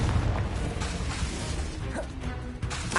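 A Confringo fire spell in Hogwarts Legacy goes off as a dense, roaring blast that stays loud and steady the whole time, with crackling and booming layered throughout.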